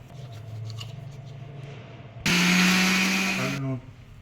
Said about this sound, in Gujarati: હવે આપણે એને મિક્સર જારમાં પીસી લઈએ.